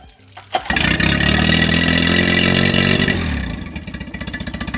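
A small outboard motor, set in neutral with the choke on, is pulled into life with a loud clattering catch, then runs at a steady, close, loud idle that settles into a rhythmic putter near the end.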